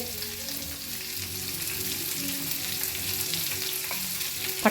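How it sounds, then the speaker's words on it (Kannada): Green chillies, curry leaves and onion fry in a pan with a soft, steady sizzle and some stirring, fairly quiet and close, ending in a couple of sharper clatters. "ಮೆಣಸಿನ್ಕಾಯಿ ಕರಿಬೇವು ಹಾಕ್ತೀವಿ, ಆಮೇಲೆ ಈರುಳ್ಳಿ ಉಪ್ಪ"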